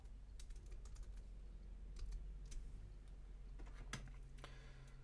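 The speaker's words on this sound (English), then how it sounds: "we'll type presents." Typing on a computer keyboard while entering poster text in Photoshop, a run of light irregular key clicks and taps at moderate distance over a steady low hum, with no talking.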